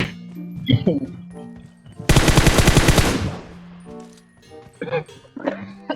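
Rapid automatic gunfire from PUBG Mobile bursts out loud for about a second, a dense stream of shots, with excited voices talking before and after it.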